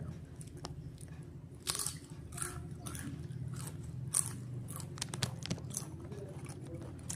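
A dog crunching potato chips, a run of irregular sharp bites and crunches close by over a low background hum.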